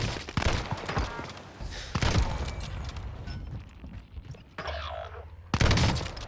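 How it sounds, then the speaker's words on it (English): Gunfire in Warzone Pacific on the Caldera map: loud bursts of close shots and thuds at the start and end, with scattered rattling fire and explosive booms in between. "Taking fire!"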